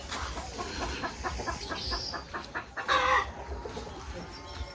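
Chickens cluck outdoors in a rhythmic series of short, close clucks, with a louder squawk partway through and steady background ambience.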